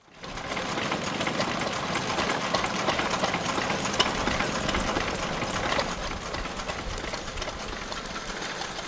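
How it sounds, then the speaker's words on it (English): A 1933 four-horsepower Ruston and Hornsby stationary engine, once used to drive a corn roller, runs steadily with a dense, fast mechanical clatter that holds at an even level throughout, close by and with no talking. "This is a 1933 4 horsepower Ruston and Hornsby engine, which originally drove a corn roller in Whitechurch"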